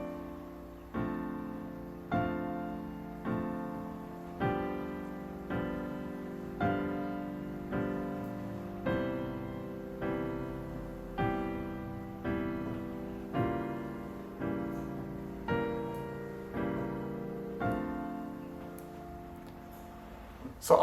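Piano improvisation with two right-hand notes over every four left-hand beats, heard as evenly spaced chords that each strike and decay in a steady rhythm, played alone without talk.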